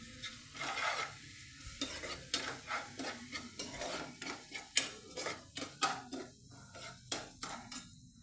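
Drumstick pieces (moringa pods) stirring and sizzling in a pan with green chilli for an egg curry, giving a steady run of scraping spoon strokes over a soft frying hiss, close and fairly quiet, with no talking.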